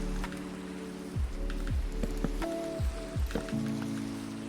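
Steady rain hisses softly in the video game Minecraft, mixed with low hums and a few falling tonal swoops from the game.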